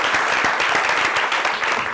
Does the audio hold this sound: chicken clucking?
no